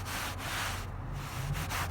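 A CarPro InnerScrub glove scrubs a ceramic-coated leather car seat, giving a steady close rubbing and scuffing texture that runs continuously with slight rhythmic strokes and no voices.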